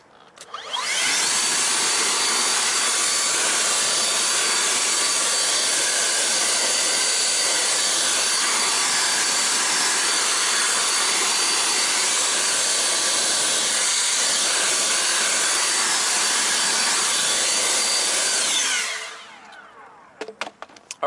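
A blow dryer is aimed at a freshly washed car wheel and gives off a loud, continuous rushing roar that holds steady for about eighteen seconds, then winds down and stops.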